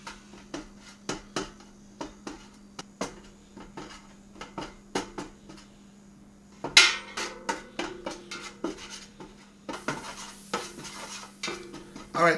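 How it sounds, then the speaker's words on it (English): Chili spice powders being stirred and toasted in oil in a pan, with a repeated rhythmic scrape and clatter of a utensil against metal, close up, over a faint steady hum and light sizzle. "So you add the powders in. And you want to toast it up."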